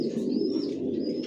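Racer pigeons of one line in a loft coo in a steady, low, continuous murmur, with a faint higher chirp drifting over it throughout.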